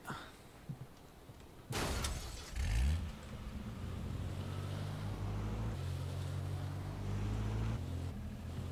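In the H1Z1 battle royale game, a car engine revs wildly, surging in loud bursts before settling into a sustained, droning roar with wind-like noise around it.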